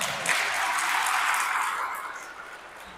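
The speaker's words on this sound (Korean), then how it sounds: "박수 한번 쳐주세요." Audience clapping at a Catholic church seminar in a Korean parish hall, a thick burst of applause that swells early and gradually fades toward the end.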